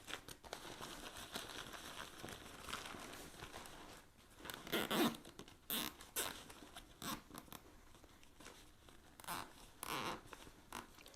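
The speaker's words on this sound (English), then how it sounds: "what we can do then is take our zip tie" A zip tie is pulled tight around gathered fabric with a ratcheting, zipping rasp in short close bursts, mixed with rustling of the cloth and no talk.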